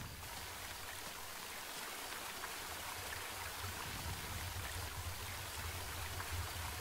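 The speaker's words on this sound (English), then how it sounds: "here's the river" River water flows steadily in the video game Home, a continuous, even rushing and trickling hiss heard alone at moderate level with no talk.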